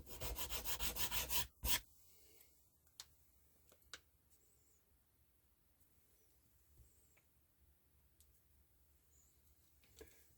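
A balsa wood model plane fuselage is sanded in a quick burst of rhythmic rasping strokes, followed by quiet scattered taps and handling noises.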